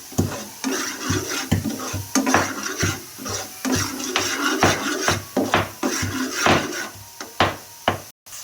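Grated carrots and semolina are roasted together in a pan for carrot and semolina halwa. A spoon scrapes and knocks against the pan in a busy, uneven rhythm over a soft sizzle, close and fairly loud, with no talking.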